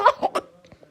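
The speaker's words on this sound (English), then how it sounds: "That was my cough" A few short coughs in quick succession, close and fairly loud, the third sharp burst followed by quieter breathy sounds.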